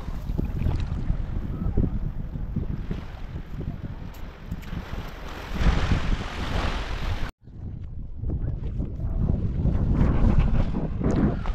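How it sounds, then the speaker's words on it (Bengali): Sea waves at Bakkhali beach wash in as a steady broad roar, loud and continuous, heavily buffeted by wind noise on the microphone. "ঢেউটা আছে দেখো ভাই"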